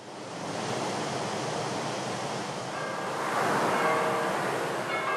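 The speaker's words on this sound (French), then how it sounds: "Et la houle, qui parfois emporte les terres avec elle." Sea swell breaking on the shore of a coastal village squeezed between a river and the sea, a continuous broad wash of surf that surges louder toward the end, with no voices.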